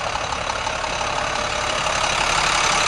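A 2006 International 4300 truck with a 466 engine idles steadily nearby, a constant, even rumble with no voices.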